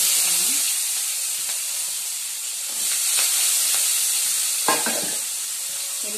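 Garlic and onion frying in hot sesame oil, a steady close sizzle and hiss with occasional stirring scrapes and brief clatters throughout.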